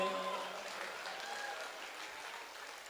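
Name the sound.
audience clapping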